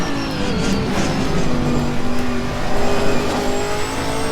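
Chevrolet Camaro GT4 race car at Bathurst in a racing game, engine loud and close as it accelerates progressively, with a brief lift off the throttle before the power returns.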